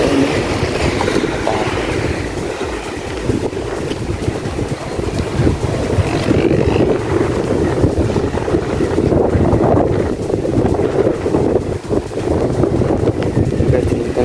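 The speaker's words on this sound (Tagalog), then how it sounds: "Yung alon humahampas dito sa ano guys" Strong waves crashing against the seawall at Masinloc Baywalk on a windy day, a loud continuous roar of surf heavily mixed with wind buffeting the microphone.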